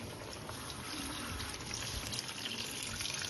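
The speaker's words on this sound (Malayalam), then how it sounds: "ഇനി നമ്മൾ ഇതിലേക്ക് തേങ്ങാപ്പാൽ ഒഴിക്കാൻ പോകും" Coconut milk pours into a pan while a mango dish cooks in ghee, a steady soft liquid wash running faintly and evenly throughout with no talk.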